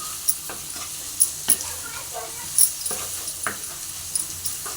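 Chopped tomato dropped into mutton curry masala, sizzling faintly in a pan with a few sharp scrapes and clinks of a spoon stirring at scattered moments.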